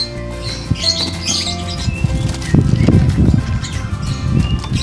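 A pet bird in a cage flaps its wings in loud, close, fluttering bursts, with a few chirps mixed in and steady background noise throughout.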